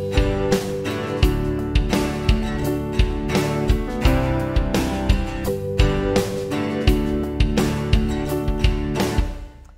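A full drum mix blending dry, reverb and compressed drum tracks in a home guitar-based production, with steady punchy hits and cymbal wash driving a continuous groove over sustained tonal backing, dense and loud throughout.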